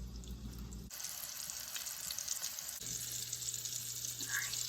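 Turkey and zucchini meatballs sizzle and fry steadily in a pan, a close, continuous crackle with brief clatter as pieces go in.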